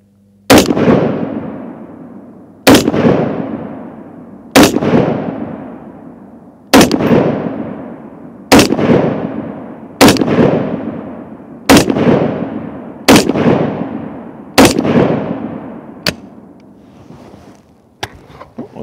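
Gunfire from a firearm: ten loud, sharp shots at a steady rhythm of about one every two seconds, each with a decaying echo tail, followed by a few faint clicks. No voices.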